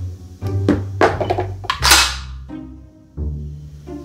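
A JTS M12 AK airsoft rifle being lifted out of its box: a series of close thunks, rustles and knocks, with a bright sliding scrape partway through, no talk.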